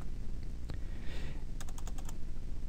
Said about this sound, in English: hit the tab key and type in story